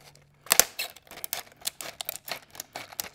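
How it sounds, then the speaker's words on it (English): Scissors cutting open sealed plastic packaging on Muzzy MORE turkey broadheads, a sharp snip followed by a rapid series of close, crisp clicks and crinkles, with no talking. "So let me grab some scissors."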